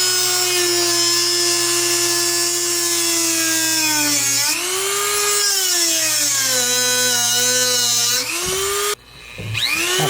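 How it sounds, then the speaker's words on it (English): A Dremel rotary tool cuts through a metal billet dipstick with a loud, continuous high whine that dips and rises in pitch as the load changes, ending in a short burst of clatter. "We're going to cut it with a Dremel"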